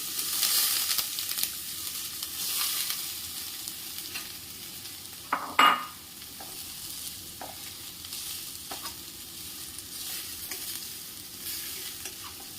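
Grated fresh turmeric roasts in ghee with a steady soft sizzle and occasional stirring scrapes, one louder clatter partway through, close and continuous with no talk.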